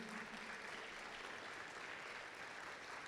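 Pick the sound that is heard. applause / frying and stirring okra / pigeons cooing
applause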